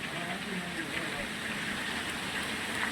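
Heavy rain falls in Moti Gop, Gujarat, a steady dense hiss of drops on surfaces that holds evenly throughout with no break.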